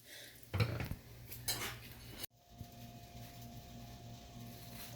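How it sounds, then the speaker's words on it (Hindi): Frying pan being shaken on a stove while custard toast cooks: a couple of sharp metallic rattles and clanks up close, then a quieter steady sizzle, no talking. "चम्मच नहीं हिलाया मैंने, वैसे ही पैन को हिला दिया"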